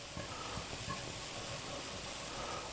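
Mealy gravy boils at a rolling boil in a cast iron pan on a Southern stovetop, giving a steady, close bubbling hiss that runs evenly throughout.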